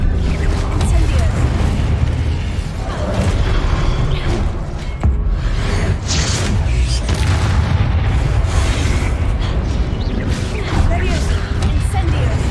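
Incendio fire spells are cast repeatedly in Hogwarts Legacy, producing dense, loud whooshing bursts and booming blasts that run continuously through the combat with no let-up.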